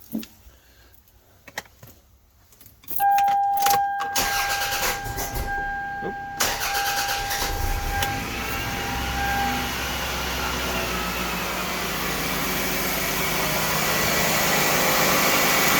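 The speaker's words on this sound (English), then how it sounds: "just so you can hear how smooth this little engine is" A 1997 Toyota Camry's small engine cranks and catches when cold, then settles into a steady, fast idle that runs on smoothly, close by, with a few clicks before it starts.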